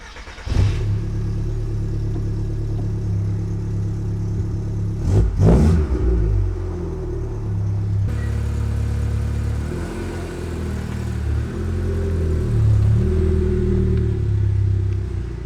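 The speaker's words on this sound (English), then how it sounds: "let's hop into the car and take off to the store" A car engine hums steadily from inside the vehicle, rising as it revs and accelerates, with a couple of brief clunks early on.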